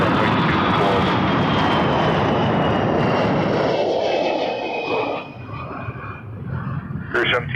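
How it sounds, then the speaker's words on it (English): An Air Canada Airbus A321-200 jet roars loudly on its takeoff roll at Toronto Pearson Airport, then the engine thunder slowly fades into the distance as the plane climbs. "That was Air Canada 151 to Calgary on an A321-200."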